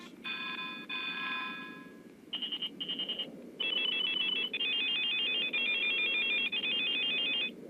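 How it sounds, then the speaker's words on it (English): Several electronic phone ringtones from the video game Silent Hill: Shattered Memories play one after another, tonal chimes followed by rapid trilling beeps repeating in short bursts, clear and close with no talking. "we're gonna go with a stupid ringtone."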